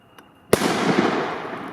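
A firework launched in the days before New Year's Eve goes off with a sudden loud bang after a faint click, followed by a long, dense crackling hiss that fades slowly, with no talk over it.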